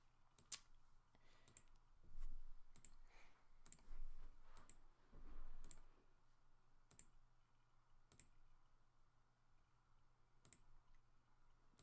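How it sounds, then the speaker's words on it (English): Computer mouse clicks from someone drawing and dragging curves in design software: sparse, sharp single clicks spaced irregularly a second or more apart over faint steady room hum, with no talking. "notice how few and far between my mouse point or my mouse clicks are"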